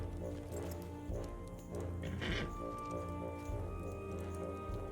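Horse hooves clip-clop steadily in the video game Lord of the Rings Online, a continuous rhythmic trotting at moderate level over a droning ambient game soundtrack.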